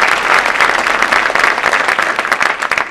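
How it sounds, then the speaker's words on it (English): Loud, close applause from the audience at a middle school winter band concert, many hands clapping in a dense, slightly uneven patter for the whole stretch. "So they deserve a big round of applause."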